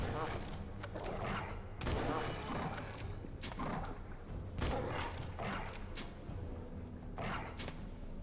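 Repeated gunshots and thuds from the video game We Are the Dwarves land in an uneven rhythm of single cracks, with several spaced apart and some tight together, under faint background sound.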